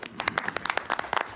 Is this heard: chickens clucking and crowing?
no